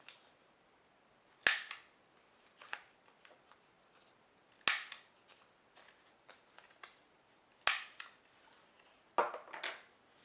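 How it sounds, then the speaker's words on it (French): A corner punch snips the corners of a paper strip for a scrapbook organizer: four sharp, crisp clicks spaced a few seconds apart, close and fairly loud, with faint paper rustling between them. "vous allez prendre la perforatrice d'angle et découper tous les coins de la bande"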